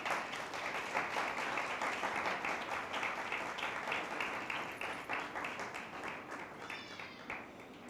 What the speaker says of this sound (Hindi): जी उठे मसीह के लिए ज़ोरदार तालियाँ।